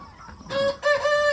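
A 72-day-old farm rooster crows loudly and close by in two bursts, with hens clucking softly underneath.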